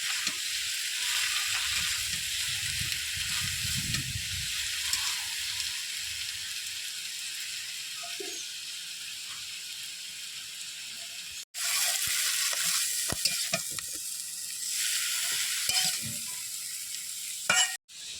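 Ghetkol greens seasoned with salt and turmeric fry in a pan, giving a continuous loud sizzle with stirring scrapes. The sizzle drops out briefly and surges back.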